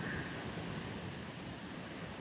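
Sea waves at a Japanese beach in early summer give a steady, broad wash of surf mixed with wind rumbling on the microphone. The sound is fairly faint and continuous, with no voices.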